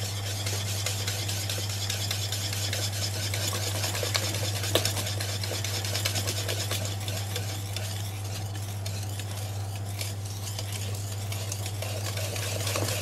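Batter whisked vigorously in a bowl while milk is added, a fast, even scraping swish that runs continuously over a steady low hum.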